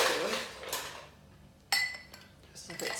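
A bar spoon stirs a White Negroni with ice in a glass, bright clinks and a sharp chink near the middle, close and fairly quiet with no talk.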